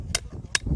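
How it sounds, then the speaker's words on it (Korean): A pound hammer strikes twice while a tent is being pitched outdoors, two sharp, close metallic hits spaced under half a second apart, with faint low background noise between them. "망치는 파운드 해머가 제일 좋은 것 같아요."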